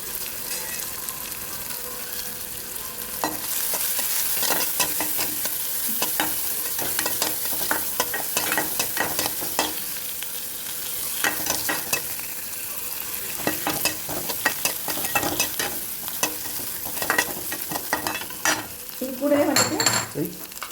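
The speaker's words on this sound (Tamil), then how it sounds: "அப்புறம் கறி லீவ்ஸு, கருவேப்பிலையும் ஆட் பண்ணியிருக்கேன். இதெல்லாம் போட்டு வதக்கிடலாம்." Curry leaves and onions sauté in a pan for semiya upma, a steady sizzle with a ladle repeatedly scraping and clinking against the metal, growing busier near the end.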